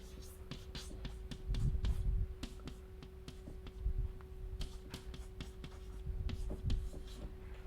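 A lecturer writes a formula during a spectral theory lecture, producing a quick run of sharp chalk-like taps and strokes on a board over a low steady hum, with soft speech in places.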